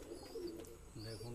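Pigeon of a Saranpuri and Kalshira crossbreed cooing in short low murmuring phrases, close by, with faint background chatter.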